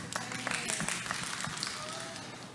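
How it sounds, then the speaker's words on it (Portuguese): Quiet applause from a church audience during a Sunday school session, scattered clapping heard at some distance for a few seconds with faint voices mixed in. "Salva de palmas."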